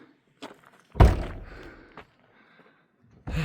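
An old door at a high-elevation mining site on Black Bear Pass swings and slams shut with a loud, close thud, framed by a few lighter knocks and creaks before and after.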